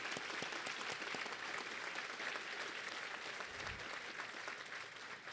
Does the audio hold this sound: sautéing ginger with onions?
no